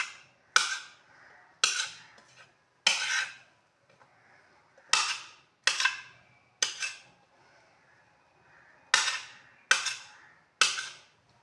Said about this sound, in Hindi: रफ रफ की कटिंग करनी है। जैसे बड़े बड़े पीस होने चाहिए अंडे के